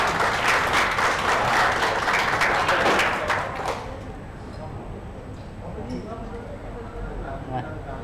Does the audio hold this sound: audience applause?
yes